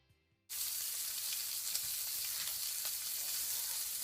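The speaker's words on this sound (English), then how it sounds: "you're gonna leave your shrimp just to saute for at least 30 seconds on each side" Shrimp sautéing in a pot for seafood macaroni and cheese, a steady loud sizzle that bursts in after a brief quiet start and holds evenly with no talk.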